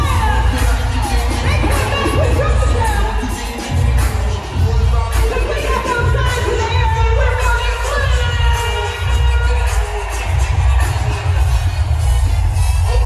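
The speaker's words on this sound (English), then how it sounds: "just take a look at this crowd and how pumped up they are" A large, pumped-up rally crowd at a Kamala Harris speech in Atlanta cheers and shouts loudly and without pause, with whoops and yells rising over a dense, steady roar.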